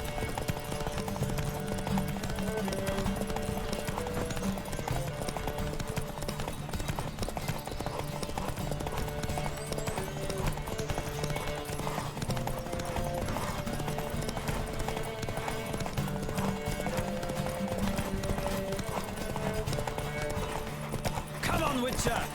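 A horse gallops in The Witcher 3: Wild Hunt with steady, continuous clip-clop hoofbeats during a race, mixed with a dense game soundscape and a voice calling out.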